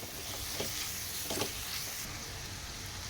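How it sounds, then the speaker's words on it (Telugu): Ridge gourd pieces frying with turmeric in a pan, giving a soft continuous sizzle and hiss with a couple of brief stirring scrapes, moderately close and even. "ఇప్పుడు కట్ చేసి పెట్టుకున్న బీరకాయ ముక్కల్ని వేసేసుకోవాలి వేసేసి బాగా ఫ్రై చేయాలి"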